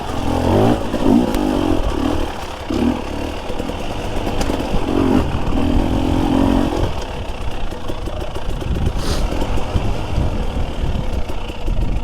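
Dirt bike engine revving steadily and loudly while climbing a harder black-diamond trail, the motor's pitch rising and falling continuously with throttle and no talk over it.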